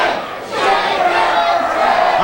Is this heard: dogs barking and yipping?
no